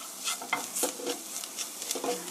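Broccoli stir-fried in a pan for broccoli spaghetti, close gentle sizzling with frequent scraping and stirring strokes of a utensil, with no talk.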